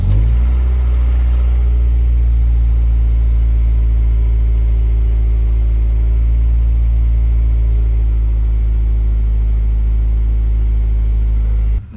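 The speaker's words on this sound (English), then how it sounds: "we're gonna do a little cold start" An Acura Integra engine cold-starts and settles into a loud, steady low idle, a constant deep rumble lasting about twelve seconds with no talking.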